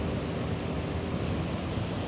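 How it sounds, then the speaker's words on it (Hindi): Glacier meltwater pours down beside a mountain trail near Nanga Parbat, making a dense, continuous rushing roar with no voices. "ये रास्ते में ग्लेशियर का पानी गिर रहा है"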